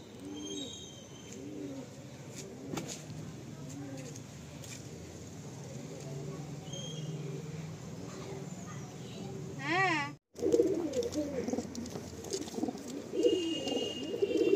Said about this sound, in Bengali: আপনাদেরকে আমি দুজোড়া পায়রা দেখিয়েছি